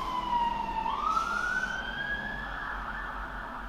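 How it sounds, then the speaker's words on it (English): A siren wails over steady traffic rumble, its pitch dipping then sweeping up into a sustained high tone, fairly close and loud. "And there's a siren."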